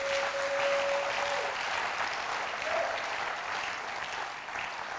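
A church congregation applauds together during a French sermon, a dense, steady wash of many hands clapping that holds evenly for several seconds and only slightly fades toward the end.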